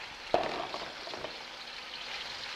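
Beef hitting a hot wok for stir fry lands with a sharp splash, then bursts into a bright, popping sizzle that settles into a softer steady crackle, close up and alone.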